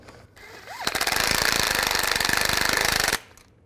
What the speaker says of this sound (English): now I'm just going to snug these all up first before I torque them